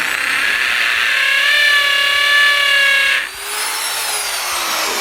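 A power drill bores into concrete while a flooring transition strip is installed, giving a loud, steady high whine that drops and shifts pitch partway through, close up with no talk.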